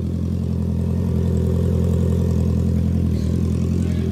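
A Honda CB650R motorcycle idles nearby with a steady, even low rumble, holding a smooth, unchanging engine note throughout with no revving.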